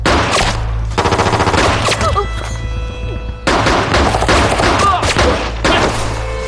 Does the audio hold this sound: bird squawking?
no